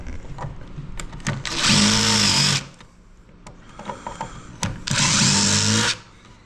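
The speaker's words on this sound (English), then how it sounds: "we'll take our countersinking jig, cut from the other side, do a little countersink." A power drill with a countersinking jig bores into Adirondack chair wood in two loud bursts of a couple of seconds each, separated by quieter clicks and handling knocks.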